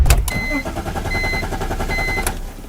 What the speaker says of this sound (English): The fact that the engine is cranking fast leads me to believe that it's not a battery problem.